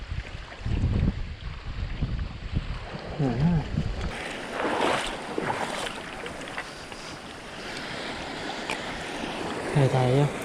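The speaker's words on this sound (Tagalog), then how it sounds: "Lakas ng hangin." Strong wind buffets the microphone outdoors on a fishing trip from a boat, loud gusty rumbles with some water noise and brief voices in between.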